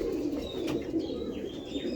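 A male pigeon coos in a low, soft, throaty run, its rolling call continuing steadily at close range while faint higher chirps come from other birds.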